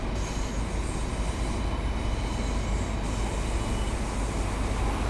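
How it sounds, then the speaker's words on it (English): A train passes in the game Train Sim World 5 on the Blackpool South to Ormskirk line, a loud continuous roar of wheels and carriages heard close, with no talking. "That was the weather train going the other way"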